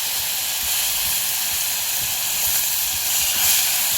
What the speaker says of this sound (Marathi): दोन पळी तेल घातलेलं आहे ते तापलेलं आहे आता आपण ह्याच्यामध्ये हे आळं लसूण आणि मिरची पेस्ट करून घेऊया